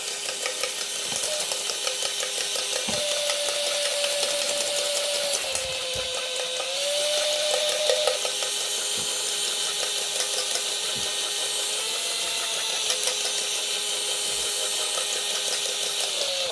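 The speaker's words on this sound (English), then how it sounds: "Yay, power drill! I need to slow it down though because it's splashing everywhere." A power drill whirring as it mixes a splashing liquid in a kitchen, a steady high whine that shifts pitch slightly as speed changes, with small knocks and clicks, loud and close, no talk.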